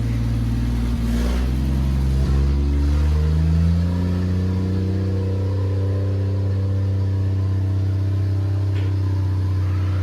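A 1940 Mercedes 320 barn-find engine idles loudly with a deep, throbbing exhaust rumble through a nearly wide-open exhaust; the pitch drops and settles into a steady, open-piped drone.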